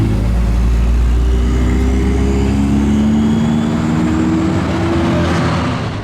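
A Dallara Stradale with traction control off pulls away onto the Monza circuit, heard from inside as a loud, steady engine drone rising through the gears, with no talk.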